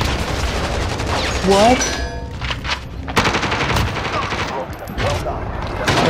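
The Bullfrog (QGB) gun in a video game fires rapid bursts of loud, close automatic gunfire that keep going throughout, with a player's voice speaking over the shooting.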